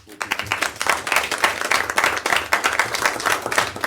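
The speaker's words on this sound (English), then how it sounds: "let's please applaud for yourself" A live audience at a YALI program gathering claps for itself in a steady, dense round of applause that carries on throughout.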